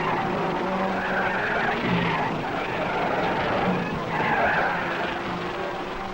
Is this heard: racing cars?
yes